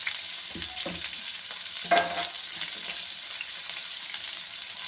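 Chillies roast in a hot pan with a continuous dry sizzle and crackle, broken by a few stirring scrapes and clinks, steady and close with no talking.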